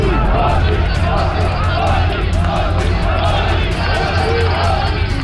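Dense crowd noise at a Kiran Bedi election rally in Krishna Nagar, a steady loud babble of many voices with scattered shouts and cheers, continuous throughout.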